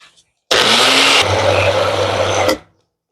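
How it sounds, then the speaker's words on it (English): A small blender whirs loudly for about two seconds while blending a protein treat, starting abruptly, dropping slightly in pitch partway through, then cutting off. "Dude, I'm gonna break this little blender."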